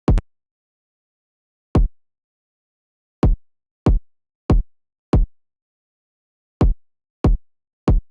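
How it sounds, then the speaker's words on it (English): Simple overdriven kick drum pattern in a beat, punchy isolated thumps with short distorted tails in an uneven rhythm, eight hits with silence between, played alone. "I just came up with this very simple kick pattern that ended up sounding like this"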